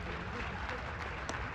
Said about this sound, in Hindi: आपकी गड़गड़ाहट तालियों की बता रही है कि बहुत आनंद आया।